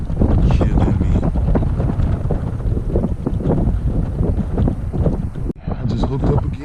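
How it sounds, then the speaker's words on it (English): Strong wind buffets the microphone on the bank of the Trinity River in Fort Worth, Texas, during spring trout fishing, a loud continuous low roar with gusts and a brief drop near the end. "That wind is killing me right now."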